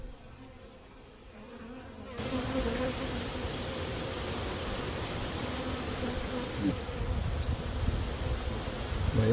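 Honey bees drone steadily inside an opened beehive during a pre-winter hive check. The dense, continuous buzz swells noticeably after the first couple of seconds and stays close and full, with no talking.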